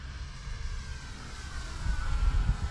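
Flightline Spitfire 1200mm RC plane flying at half throttle, a steady droning electric motor and propeller hum with a slight rise in level, heard from a distance without talk.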